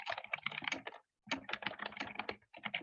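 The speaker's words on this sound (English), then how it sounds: "I assume you're hearing typing in the background like I am." Rapid typing on a computer keyboard clatters in quick bursts, with two short pauses between runs of keystrokes, faint and distant, with no one speaking.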